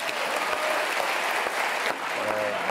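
A studio audience applauds a French comedian with a sustained, dense wave of clapping that holds at an even level throughout, with faint voices underneath.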